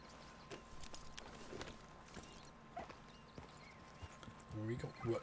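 Horse hooves clip-clop at a steady walking pace in the Red Dead Redemption 2 video game, fairly quiet and close, with voices speaking over them.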